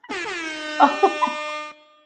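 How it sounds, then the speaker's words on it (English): A loud, sustained air horn blares on several stacked tones for about a second and a half, swelling in a few short surges before cutting off, with a brief spoken word near the start. "what an air horn."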